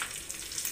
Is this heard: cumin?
yes